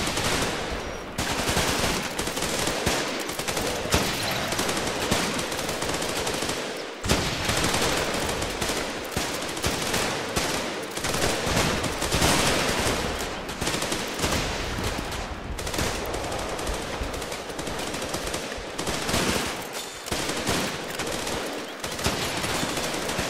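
Sustained heavy machine gun fire, likely a .50 cal, in the war game Running With Rifles, with loud continuous bursts and overlapping shots through nearly the whole stretch, broken only by brief pauses.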